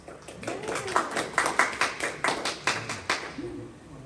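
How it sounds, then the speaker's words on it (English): A small real-estate seminar audience gives thin, scattered applause, around ten light claps trailing off, with a voice briefly audible near the end. "that wasn't much of a clap"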